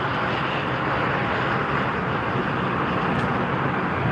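An Air Dolomiti Embraer 190 jet taxis at Frankfurt Airport, its engines giving a steady, loud broadband roar and whine that holds evenly throughout with no talk.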